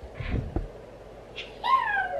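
A cat gives a drawn-out meow at close range, preceded by soft shuffling and a brief higher squeak.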